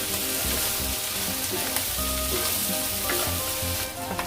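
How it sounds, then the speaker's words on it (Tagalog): Bopis, chopped pork lung with green chilies, sizzles and crackles loudly in hot oil in a pan, a dense steady frying hiss with scattered small pops throughout. "Patuloy pa itong lutuin hanggang sa marinig ng pumupulutok ang baga."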